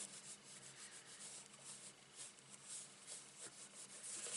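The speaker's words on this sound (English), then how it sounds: "And then give that a rub in my bone folder." A bone folder rubs firmly back and forth across folded card stock, giving a soft, close, steady scraping swish, faint and continuous with no talking.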